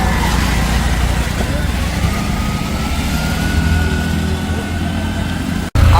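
An auto rickshaw engine runs steadily with a low rumbling drone and broadband road noise, fairly loud and continuous, ending in a brief dropout near the end.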